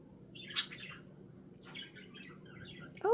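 Pet budgie chirping indoors, three short faint tweets spaced apart over a low steady background hum, with no talking.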